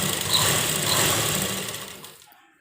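A sewing machine stitches a kurta seam in a steady, fast whirring run that holds for about two seconds, then slows and stops, leaving near silence.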